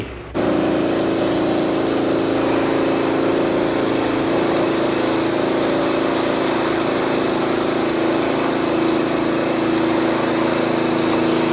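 A Honda GX200 engine drives a water pump, starting abruptly and then running at a steady, loud, unbroken drone with a hissing spray of water throughout.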